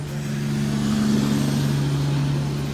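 A passing heavy truck's engine rumbles steadily nearby, a low droning hum holding for a few seconds with no voices.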